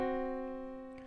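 A tritone interval rings out as two sustained tones played together, a dissonant, steady chord that fades gradually over about a second with no voices.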